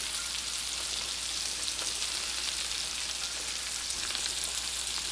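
Celery sizzles and spatters in a hot frying pan, a dense, even crackle that holds steady throughout at close range.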